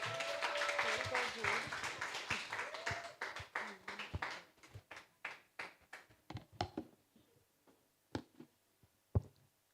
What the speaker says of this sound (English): Give a round of applause for Jude.